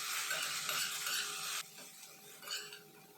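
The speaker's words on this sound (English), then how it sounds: "Give this a good mix." Okra frying in a pan and being stirred with red chili powder, a close loud hissing sizzle that abruptly drops to a softer sizzle, then a brief scrape of the spoon.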